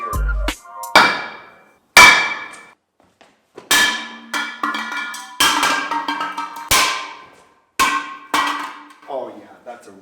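Hammer striking a Hydroflask stainless steel bottle to dent it, about seven or eight loud, sharp metallic bangs at irregular intervals, each ringing briefly before fading, close up.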